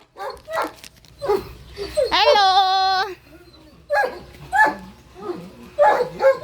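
Several dogs bark and yip close by in short bursts, with one long high whine in the middle, while a person calls out briefly.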